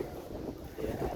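Gusty wind on hillside stairs at Monte Maria in Batangas on a hot day, a brief, low, buffeting rumble across the microphone with no clear voices.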